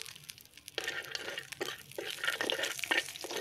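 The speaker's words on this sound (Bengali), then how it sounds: "এখন আবার কুমড়ো বড়িগুলো ভেজে নিচ্ছি" Pumpkin bori lentil dumplings fry in oil with a moderate crackling sizzle. Scrapes and clinks of stirring run through it, with no talking.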